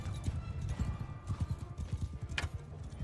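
Galloping horse hooves from Mount & Blade II: Bannerlord, a rapid, steady clip-clop rhythm at moderate distance, heard alone without talk for about three seconds.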